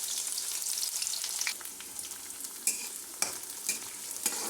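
Two small onions frying in hot oil with cumin, a steady bright sizzle with occasional crackles and stirring clicks, fairly faint and with no voices.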